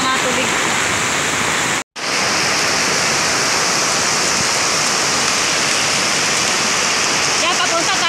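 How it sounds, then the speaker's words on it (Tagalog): Heavy rain and rushing floodwater at a public market, a loud, continuous broadband roar like a waterfall that cuts out for a split second and then resumes at full strength. "biglang mas malaki pa din ang mga tubig"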